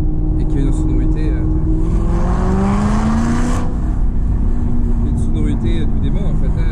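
An Aston Martin V8 Vantage's 4.3-litre dry-sump V8, a reworked Ford-based engine, revs loudly and steadily, its pitch climbing and then settling, with a voice faintly underneath.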